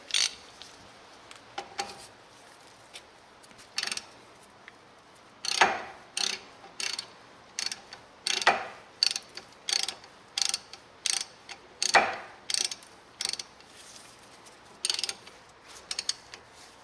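Repeated ratchet clicks from a hand ratchet tightening the brake caliper bolts on a 2010 Hyundai Santa Fe during a brake pad change, coming in close, irregular bursts of short strokes with brief pauses between them, no talking.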